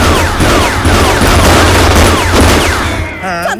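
Loud burst of gunfire from a gun in a Hindi comedy skit, dense overlapping shots rattling continuously for several seconds before tapering off into a ringing tone.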